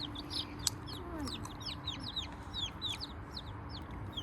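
Chickens clucking and chirping around a pet rooster indoors, a stream of short high peeping calls repeating over a steady background hum, fairly close, with no talking.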